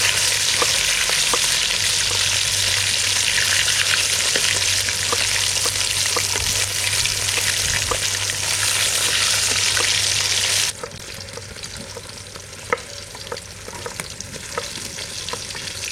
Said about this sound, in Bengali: কড়াইটাতে গরম করেছি না, কোনো লাগে না এই মাছটা কড়াইতে